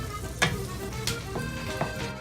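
Garlic sizzling in melted butter in a pan for shrimp scampi, a soft, quiet frying hiss broken by a few light scrapes and taps of a spoon.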